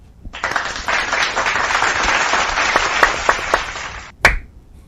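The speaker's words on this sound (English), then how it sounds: "let's give everyone a round of applause" A room full of people claps together in a sustained round of applause lasting about four seconds, dense and steady with a few sharper individual claps, ending abruptly before one loud final clap.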